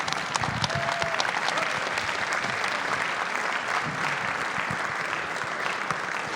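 Audience applause at the Granada gala, a dense steady clapping from a large crowd that holds at an even level throughout without letting up.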